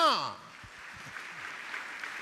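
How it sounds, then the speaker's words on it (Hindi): Applause from an audience at a Jain monk's religious discourse, a steady dense patter of clapping that swells after a brief voice at the start and carries on evenly. "तालियां तालियां तालियां"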